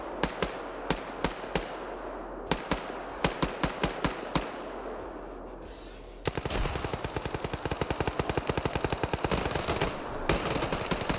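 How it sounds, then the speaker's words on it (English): Gunfire in a PvP military video game match: scattered single shots crack at irregular intervals, then a dense, sustained burst of rapid automatic fire rattles on nearly continuously. "More shooting as we close in the CQC"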